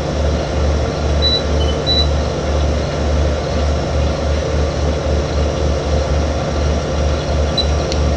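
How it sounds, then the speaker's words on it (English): A tractor in Farming Simulator 2015 cultivates a field while spraying NPK fertilizer, giving a steady, loud mechanical drone with a rhythmic low-end pulse that runs unbroken throughout. "So we're spraying NPK while we"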